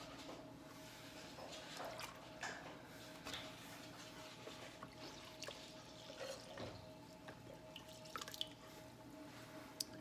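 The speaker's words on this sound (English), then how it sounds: "Taking the liquid out of the bottom of my pot." Soft drips and small watery sounds as liquid is taken out of the bottom of a clay pot on a potter's wheel, faint and intermittent over a steady background hum.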